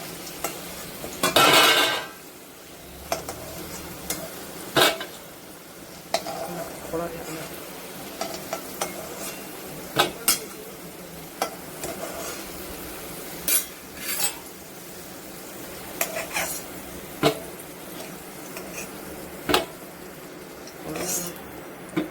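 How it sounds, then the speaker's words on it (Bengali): Potatoes fry in oil in a pan with a continuous sizzle while a metal spoon stirs and scrapes, giving repeated clinks and knocks throughout. A voice talks intermittently over the cooking. "আলুটা লাল লাল করে ভেজে নেব, ভেজে তারপর উঠিয়ে রাখবো।"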